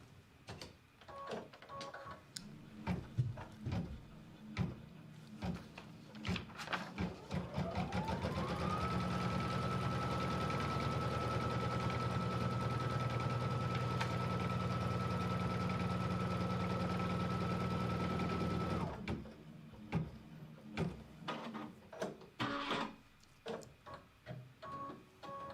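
A sewing machine runs steadily for about ten seconds, stitching the trimming and placement line for a red fabric stripe on a patriotic quilt block. Handling clicks and rustles come before and after the run.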